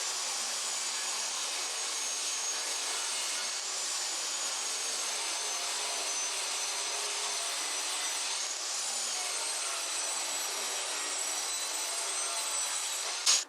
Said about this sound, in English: Then we'll saw this in half